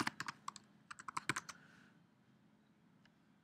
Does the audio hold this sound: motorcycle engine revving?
no